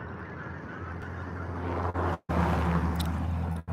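A huge flock of around 2,000 Canada geese honks in a field beside horses at sunset near the Rocky Mountains, a loud, steady overlapping clamor that briefly cuts out before resuming.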